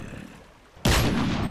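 Gunfire in HunterZ, a zombie shooter video game: a sudden loud burst of gunshots bursts in after a quieter stretch with faint voice and holds for about half a second before easing.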